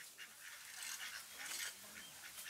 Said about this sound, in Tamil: வாத்து 7 வாத்து இருக்குங்க.